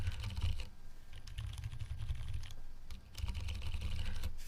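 Mechanical keyboard switches with Novel Keys cream housings are typed on up close, in two bursts of deep, thocky keystrokes separated by a short pause.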